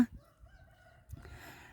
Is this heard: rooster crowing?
yes